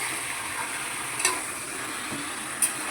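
Chicken sizzling steadily in a frying pan over a raised flame, the hiss continuous while a spoon stirs, with two faint scraping clinks against the pan.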